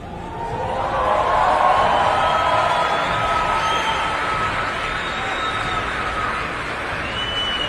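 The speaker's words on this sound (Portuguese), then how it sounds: "E eles aplaudem ainda." A large crowd applauding and cheering at a political event, a steady roar of clapping and voices that swells after the first second and holds loud throughout.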